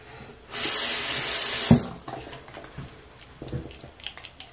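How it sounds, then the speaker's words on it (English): Bathroom tap running into a sink during face washing with a clear gel cleanser: a steady rush of water for about a second, then soft splashing and rubbing after the flow stops. "So I'm just gonna take a bit of this and wash my face."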